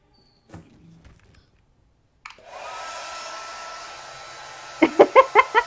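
A hair dryer drying hair in a drama scene switches on abruptly after near silence and then runs as a steady, close whoosh. A few quick rhythmic bursts come near the end.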